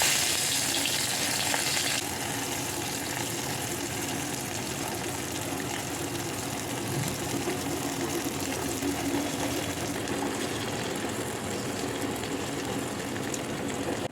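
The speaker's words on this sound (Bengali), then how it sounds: "পুঁটি মাছগুলোকে একদমই মুচমুচে করে ভাজি করব।" Small native puti fish rubbed with salt and turmeric fry in a wok in a miniature kitchen, giving a steady, close, dense sizzle that runs unbroken throughout with no talking.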